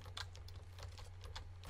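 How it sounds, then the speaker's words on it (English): Quick clicking keystrokes on an HP computer keyboard, a steady flurry of light taps heard close but quietly. "You hear the HP keyboard?"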